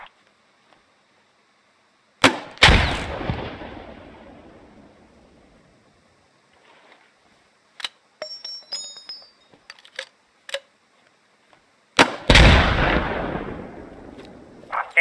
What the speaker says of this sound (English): These fire 40mm grenades and are highly effective against infantry in the open and light vehicles.